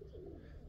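A pigeon gives a short, soft low coo close by in a snowy winter yard, a brief murmur over a faint outdoor background.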